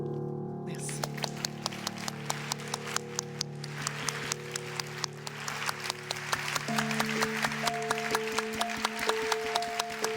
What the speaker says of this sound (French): Moi, j'applaudis mes collègues.